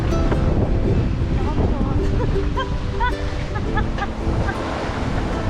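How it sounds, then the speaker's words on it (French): Ocean waves wash around a sailboat on a transatlantic crossing, a continuous churning roar mixed with wind buffeting, while a voice speaks over it. "Voilà, notre sort des vagues, et des vagues, et des vagues."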